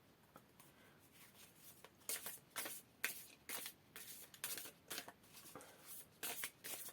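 Oracle du Tao cards being shuffled by hand, a quiet close run of rhythmic riffling bursts, about a dozen swishes getting busier after the first two seconds, with no talk.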